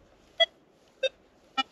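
Three brief, evenly spaced beeps come from a RUTUS Versa NC metal detector sweeping over a small buried silver coin. The tones are clean and isolated against near silence.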